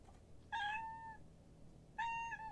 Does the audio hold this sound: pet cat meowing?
yes